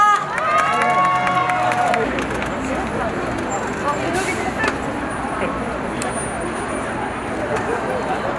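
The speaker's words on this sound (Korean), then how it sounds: "함성 크게 질러주실 수 있나요?" A crowd at an outdoor festival on the COEX east plaza for the Gangnam Festival cheers loudly and continuously, a dense roar that swells after a brief voice at the start.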